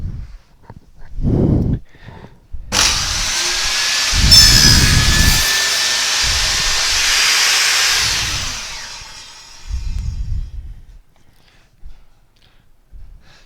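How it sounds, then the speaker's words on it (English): A table saw cuts finger joints with a single-blade box joint jig, one loud sustained whine of the blade biting through the workpiece for about five seconds, with shorter motor and handling noises before and after. "the blade in our table saw set to the correct height, it's time to start cutting our finger joints"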